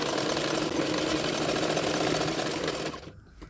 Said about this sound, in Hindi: अभी उसको फोल्ड करते हुए और एक सिलाई डाल दूंगी